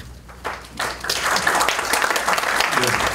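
An audience at a Pyeongtaek mayoral candidate debate bursts into applause, the clapping swelling after a quieter start and continuing loud and dense throughout, with faint voices mixed underneath.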